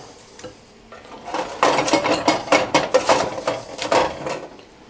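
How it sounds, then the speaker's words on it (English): Spatula scraping food into a non-stick pan, a rhythmic series of close, fairly loud scrapes and clinks over several seconds, with no talk. "And I just put it all in here with a spatula. Use a no-stick pan"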